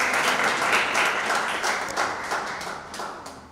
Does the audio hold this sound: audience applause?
yes